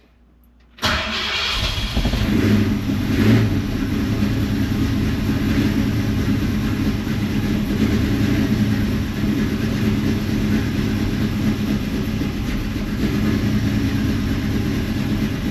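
Car engine, from the ACES, catching and then idling steadily, a loud close low rumble with a constant hum after the first moment of silence.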